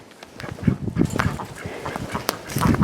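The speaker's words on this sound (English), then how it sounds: "Oh dear, we have a duck in the chicken pen." A duck quacks inside a chicken pen on a homestead, a run of short nasal honking calls close by, repeated irregularly with other farmyard fowl noises around it.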